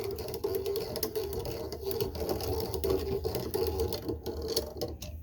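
RV roof antenna on a 2015 Cougar 327RES travel trailer being cranked down by hand, giving a steady mechanical whirring and ratcheting grind that sounds close and moderately loud throughout.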